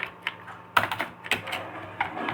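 Urdu text being typed on a computer keyboard in InPage 2009 desktop publishing software, with crisp, close key clicks arriving in small irregular bursts and a couple of sharper clusters, with no talking.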